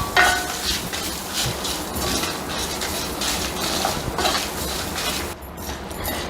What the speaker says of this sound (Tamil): பாருங்கள் சுருன்னு சத்தம் வருதுல்ல, அது கொஞ்சம் போகணும்